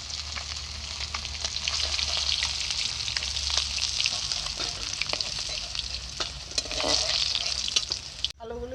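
Steady loud sizzling of food frying in hot oil in a wok, continuous crackle and hiss with occasional pops, close by.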